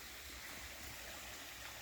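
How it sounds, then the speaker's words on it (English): Water gushing out of a blown mine shaft seal in Clarion County and flowing down toward a creek, a steady broadband rushing sound, continuous and close, with no talking. "you can see how the water's coming up and out of it"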